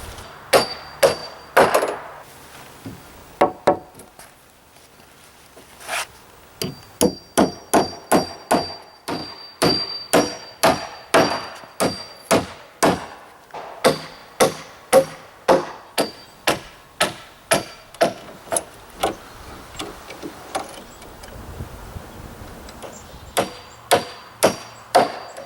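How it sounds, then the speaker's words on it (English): Hammer toe-nailing nails into a wooden framing stud on a garden shed greenhouse back wall, with dozens of sharp, loud, evenly spaced blows coming in quick runs and separated by brief pauses. "I just toe nail a couple of nails in there just to hold this in place."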